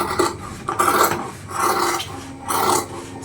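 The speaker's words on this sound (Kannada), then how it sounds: "ನೋಡಿ ಈಗ ನಾನು ಸ್ಲೀವನ್ನು ಕಟ್ ಮಾಡ್ತೀನಿ." Scissors cut blouse sleeve fabric up close: three steady, rasping cutting strokes in a regular rhythm, loud and near, with no one talking.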